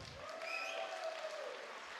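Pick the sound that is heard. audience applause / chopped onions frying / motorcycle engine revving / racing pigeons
audience applause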